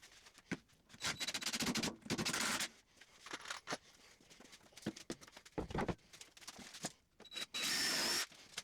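Power drill with a countersink bit boring at an angle into 2x4 lumber for a bench, several loud whirring bursts separated by short pauses and handling clatter.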